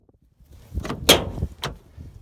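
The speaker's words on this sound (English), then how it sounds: "you heard that nice crick. The front door is definitely hitting that front fender" A Subaru front door swung on its hinges, creaking and knocking against the front fender, heard up close as a couple of sharp metallic bumps and a squeak in a quiet outdoor setting.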